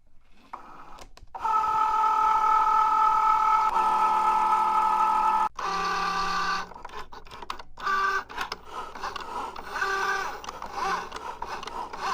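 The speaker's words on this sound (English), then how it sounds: "so how noisy is this machine? So let's take a listen to this." A Cricut Joy cutting machine runs with a steady mechanical whir and hum. The motor shifts pitch and stops and starts in bursts as the carriage moves, close and alone with no voices.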